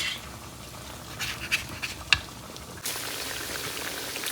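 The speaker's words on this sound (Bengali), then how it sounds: "এক পাশ ভাজা হয়ে গেছে, তো আর এক পাশ আমি উল্টে দিচ্ছি" Pitha frying in a pan with a soft, steady sizzle and bubbling, broken by a few light clicks and a sharper tap as it is turned, after which the frying grows a little louder.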